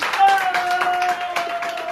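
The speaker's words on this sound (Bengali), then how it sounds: "জোরে হাততালি" Gym members at a fitness gym give a brief round of applause for a transformation challenge winner, a quick burst of clapping under a person talking.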